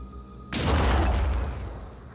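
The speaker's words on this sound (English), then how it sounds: "Let's just go and throw a grenade his way." A grenade goes off in the Blood and Titanium video game: a sudden loud boom with a deep, rumbling low end that swells and then slowly decays. There is no speech.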